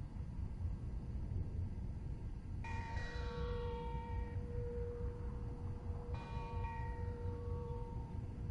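Two separate bell strikes inside the Spider-Man: Miles Morales video game, each a bright metallic ring that fades slowly over a steady background hiss. The second strike is shorter, and no one speaks.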